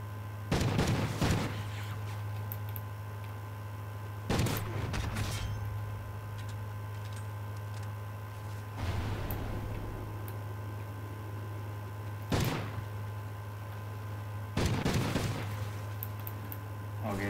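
Video game shotgun blasts in a free-for-all match, five loud, sharp bursts spaced a few seconds apart over a steady low hum, with a player talking between shots.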